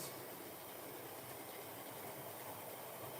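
A model train runs steadily on its layout, producing a continuous, even rolling hiss and rumble of wheels on track, close and unbroken for the whole stretch with no talking.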